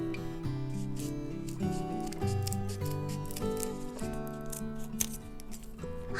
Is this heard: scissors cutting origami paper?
yes